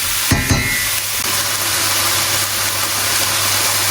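Mushrooms browning in a hot pan with a little fat give a steady, close sizzle throughout, with a couple of brief stirring clatters near the start and a low constant hum underneath.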